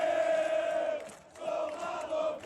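Corinthians football supporters chanting together in the visitors' section of the Barradão stadium, a sustained tonal crowd song that dips briefly and resumes, heard from a distance and fairly faint.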